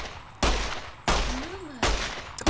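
Gunfire in the Fallout: New Vegas video game, three loud separate shots spaced about two-thirds of a second apart, each with a short ringing tail, with no talk over them.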